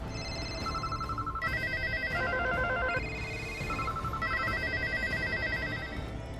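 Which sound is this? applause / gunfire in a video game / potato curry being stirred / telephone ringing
telephone ringing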